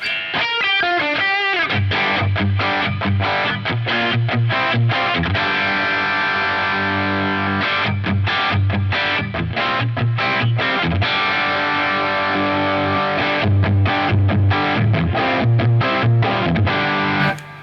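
Distorted electric guitar through a Beetronics overdrive pedal at full gain with mid boost engaged, playing sustained chords and choppy riffs continuously, loud and alone.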